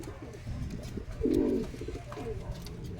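Young racing pigeons coo in a loft: one close, low, throaty coo rises over soft background murmuring and faint chatter.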